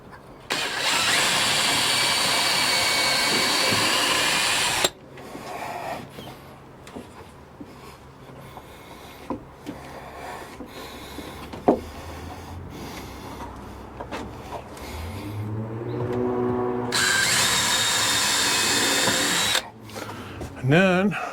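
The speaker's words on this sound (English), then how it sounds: "I got a pre-drill because I don't want to split anything." Power drill pre-drilling a hole so the wood won't split, a loud steady whine for about five seconds, then quieter handling noises, and a second sustained burst of drilling near the end.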